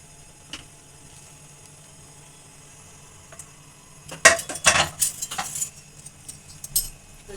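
Lid of a pressure cooker being opened after cooling, a few faint ticks early on, then a cluster of close metallic clinks and scrapes as the lid is worked loose and lifted.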